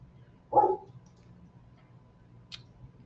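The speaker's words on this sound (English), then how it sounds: "Stop barking here." A dog gives a single short bark at a house, moderately close against a quiet background hum. A faint, brief high squeak follows two seconds later.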